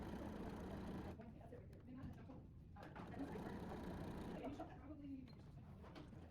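A sewing machine stitches an appliqué quilt in black thread, a steady continuous mechanical whir running through the whole stretch, with a voice talking over it.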